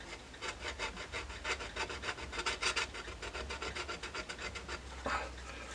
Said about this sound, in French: Je vais faire un trait sur ma plaque